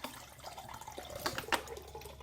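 Bottled water, coconut water, lemonade and tap water being poured into containers for a drop test. Soft, faint liquid trickling and splashing with a couple of brief louder spatters midway, and no talking.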